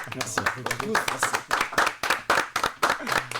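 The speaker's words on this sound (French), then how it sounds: "Moi, je t'applaudis" Close, crisp hand claps in a quick, uneven rhythm sound during a live football talk show. Voices talk over them the whole time.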